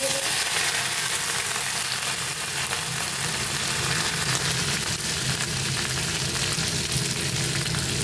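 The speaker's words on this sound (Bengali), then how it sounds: "ওইগুলো একটু ভাজা ভাজা হয়ে গেলে কারি পাতা দিয়ে দেবো।" Whole mustard seeds, dried red chillies and curry leaves fry in hot oil, a steady close crackling sizzle that runs on evenly throughout without talk.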